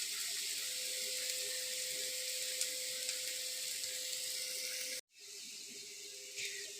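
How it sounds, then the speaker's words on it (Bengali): A steady, even hiss of onions sizzling in a hot pan runs on, briefly cuts out, then resumes with a small flare of crackle. "পেঁয়াজটাকে আমরা মোটামুটি একটু লাল লাল করে ভেজে নেব"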